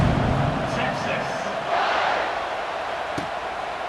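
Stadium crowd at a video game American football match, a steady wash of cheering and roaring, held at moderate loudness under a commentator's voice.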